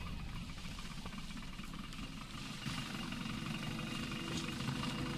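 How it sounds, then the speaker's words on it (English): A vehicle engine in the video game Battlefield Bad Company 2 runs at a steady idle, a dense, continuous low rumble with constant vibration that holds throughout at even volume. "Start the engine."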